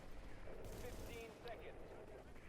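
Dense gunfire from shooting at agents in The Division's Dark Zone, a continuous rattling barrage with overlapping shots and game effects, steady and distant-sounding, quiet overall.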